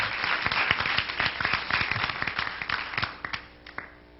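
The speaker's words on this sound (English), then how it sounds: "But let's give them all another round of applause." An audience at a college event claps in a lively round of applause, dense sharp hand claps near and loud at first, thinning out and fading toward the end.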